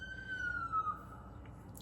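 A distant siren wails, its tone sliding slowly downward as it passes, faint over a low background rumble.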